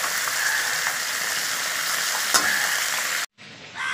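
Fish frying in hot oil makes a loud, dense, close sizzle that holds steady for about three seconds before cutting off abruptly to a quieter background.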